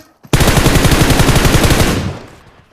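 Automatic gunfire in the video game PUBG Mobile, a loud rapid burst of shots lasting under two seconds, then a quick fade, with no talk over it.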